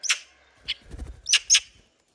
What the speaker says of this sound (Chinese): 好，给这个小八哥喂一点。